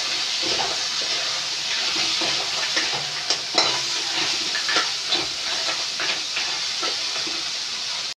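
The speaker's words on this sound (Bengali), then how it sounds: "আমাদের কাঁকড়ার ডানাগুলো ভালো করে ভাজা হয়ে গেছে" Crab claws deep frying in oil, a continuous hissing sizzle with intermittent stirring clatters and pops, close and fairly loud, no speech.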